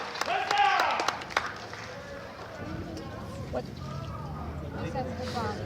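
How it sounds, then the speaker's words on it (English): An audience claps at a jousting faire with horses, a burst of applause early on that thins to scattered claps, mixed with crowd talk. "Let's have another round of applause."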